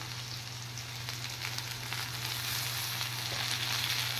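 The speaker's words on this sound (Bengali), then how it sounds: "এবার সামান্য জল দিয়ে মশলাটা সহ একটু ভেজে নেব" Spice masala and chopped tomato fry in a pan with a loud, steady sizzle that continues unbroken, with faint stirring scrapes mixed in and no talking.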